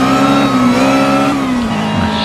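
Supercharged Ariel Atom 300 race car engine in the Project Cars racing game at Azure Coast, a loud, steady high-pitched drone that holds its pitch through a gear before dipping near the end, alone with no talk.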